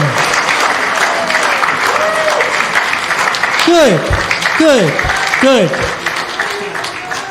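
A congregation gives a standing ovation at a Rock Shabbat service, with sustained loud applause mixed with rising whoops and cheering voices, and someone speaks briefly over it.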